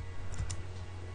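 A computer keyboard gives a couple of quick, faint key clicks in a quiet room, heard up close while a 3D modelling program is being used.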